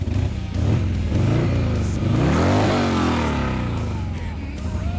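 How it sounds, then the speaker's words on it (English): A stock Harley 883R Sportster engine revs hard as the rider dumps the clutch for a wheelie, a loud, close, rising and falling throaty roar that fills the whole stretch, with no talking. "the one thing you got to do when you do a wheelie on a stock bike is dump the clutch"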